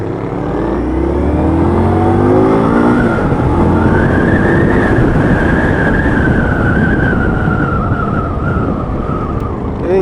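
An Indian Scout Sixty motorcycle with a 999cc engine accelerating hard, a loud, steady engine roar whose pitch climbs and then holds as it pulls away, filling the whole stretch.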